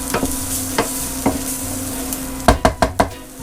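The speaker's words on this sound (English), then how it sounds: "Stir that together just briefly to get that garlic going." Garlic sizzles softly in a pan while a utensil scrapes and knocks against it, a few scattered stirs early, then a quick run of four sharp strokes near the end, close and without talk.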